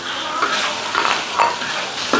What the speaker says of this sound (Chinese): 泡菜下锅